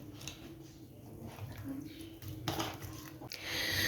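Fish pieces being mixed with marinade and pulp in a bowl for a crispy fish fry, giving soft squishy clinks of utensil against the bowl, with sharper scrapes and a louder rustle toward the end beneath a low room hum.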